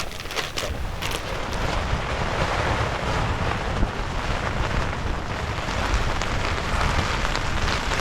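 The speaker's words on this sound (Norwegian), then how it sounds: "Nordvest, kraftig vind og pestregn har det vært." Steady dense roar of heavy rain mixed with gusting northwest wind buffeting the microphone, continuous and loud throughout.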